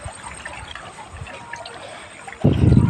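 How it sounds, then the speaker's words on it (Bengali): Scaled rohu fish being rinsed in water, with soft trickling and light splashes that swell into a louder, sloshing burst near the end. "তো চলো মাছগুলো এবার ভালোভাবে ধুয়ে নিই।"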